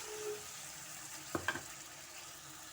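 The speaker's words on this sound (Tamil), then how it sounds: "நான் அரைச்சி வச்சுருக்க தேங்காய் தண்ணியை நான் சேர்க்குறேன்." Yam (senai) masala dry roast sizzling in a pan after ground coconut water is added, a steady close frying hiss with a couple of brief utensil knocks partway through.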